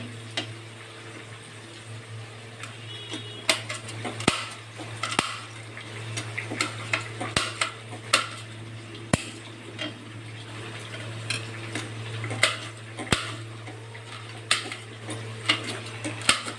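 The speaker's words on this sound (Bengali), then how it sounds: "কাঁচা লঙ্কা কাটছি" Green chilies being chopped with a knife on a board, a series of irregular sharp taps and clicks spread through the clip over a steady low hum, with no speech.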